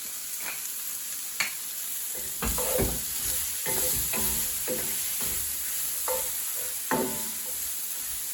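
Bell peppers frying in a seasoned pan with a pinch of salt and black pepper, a steady close sizzle broken by several sharp stirring scrapes and clatters of a utensil against the pan.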